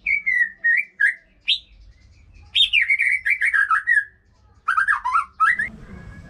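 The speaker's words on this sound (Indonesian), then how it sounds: "di sebelah saya ini ada murai batu yang sedang lagi dorong ekor" A white-rumped shama sings clear, rich whistled phrases in bursts with short pauses, close and loud, with a low rumble underneath.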